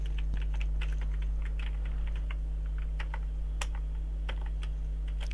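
Steady keyboard typing with quick, irregular clicks and taps, some louder keystrokes standing out, over a constant low electrical hum while entering email addresses in an Excel VBA setup.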